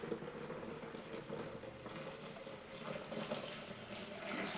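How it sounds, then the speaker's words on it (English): Homemade almond milk being poured into a strainer over a pitcher, giving a low continuous trickling, splashing flow of liquid with no talking. "Just pour it in."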